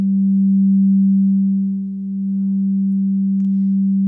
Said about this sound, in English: it starts creating sort of a wah-wah kind of sound, which we refer to as sing